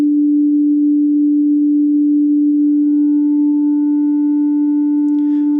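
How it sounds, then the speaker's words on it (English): A steady test tone passing through the Maximus saturation and ceiling processing. A single pure pitch holds throughout, and about halfway in, faint upper overtones join it like a square wave series. A brief scratchy noise sounds near the end. "If you listen really closely, you can hear a square wave series."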